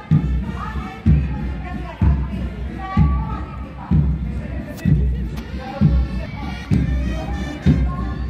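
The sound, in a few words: audience applauding at CRPF parade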